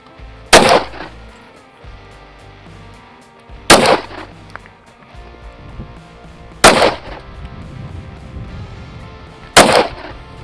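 Four loud, sharp gunshots of 115 grain Super Vel ammunition fired from a 6-inch barrel on a Raider 365 pistol, evenly spaced about three seconds apart, each with a brief echoing tail outdoors.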